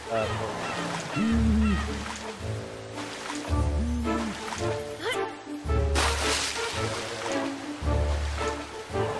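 A duck in the video game Herdy Gerdy honks repeatedly in short, nasal calls, spaced a second or two apart, set against steady flowing water and game ambience.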